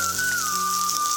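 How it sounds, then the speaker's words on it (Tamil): Chopped garlic fries in a spoonful of ghee with a steady, close, continuous sizzle and a thin whistling tone running through it. "நல்லா முறுமுறுன்னு முந்திரி வறுக்கிற மாதிரி வறுத்துக்கணும்."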